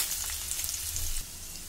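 Onions frying in hot oil in a pan, a continuous close hiss and crackle of sizzling that drops slightly in level near the end.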